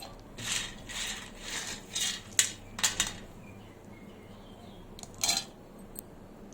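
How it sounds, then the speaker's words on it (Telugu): Peanuts tumble into a pan while a mushroom masala is cooked, a string of light clattering rattles and pings, some clustered and some isolated, fairly faint, with no voices. "పల్లీలు అయితే వేస్తున్నాను"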